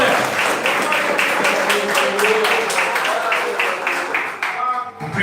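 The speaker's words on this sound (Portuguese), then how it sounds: "Dê mais uma salva de palmas para Jesus" A church congregation applauds in a loud, dense burst of clapping with an uneven pulse and voices mixed in, fading briefly near the end.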